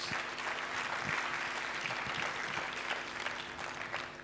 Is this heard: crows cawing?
no